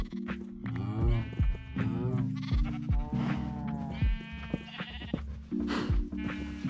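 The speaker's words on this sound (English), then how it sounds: "At ililipat ko na rin itong mga sheep at cows sa ilalim ng aking bahay." Game sheep bleat over and over in a farmyard, together with cows, each wavering cry rising and falling in quick succession. The overlapping calls stay close and fairly loud, and no one speaks over them.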